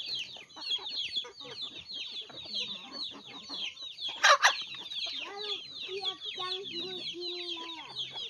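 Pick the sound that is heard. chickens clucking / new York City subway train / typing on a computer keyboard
chickens clucking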